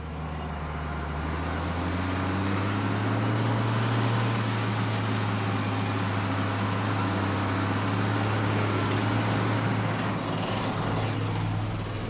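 Claas Xerion 2500 tractor engine running while driving, a loud, steady low diesel drone with a high whine on top, continuous and close throughout.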